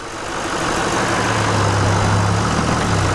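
A 2016 Chevrolet Silverado 2500HD's 6.6 liter turbo diesel engine idles close by, a steady low rumble with a slight rhythmic throb that grows a little louder and holds.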